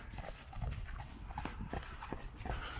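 A horse clip-clops along a road at a walking pace, hooves tapping in an even rhythm, fairly near and heard alone over outdoor background noise.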